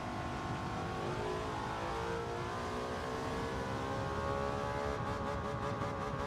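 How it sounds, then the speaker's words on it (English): Race car engine in Gran Turismo 7, running at Watkins Glen, revs steadily in a loud continuous drone with rising harmonics, holding high revs under fourth gear with no talk over it. "it doesn't sound like the engine is about to max out"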